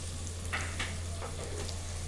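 Chopped onions with a little salt sizzle and fry in a pan as the base for a brinjal tomato curry, a steady soft crackle with a few brighter bursts as they are stirred, close by, with no talking.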